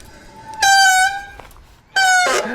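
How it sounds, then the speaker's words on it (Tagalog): Two loud, sustained horn blasts, the first about a second long and the second shorter, with a brief quiet gap between them and no talking. "May busina"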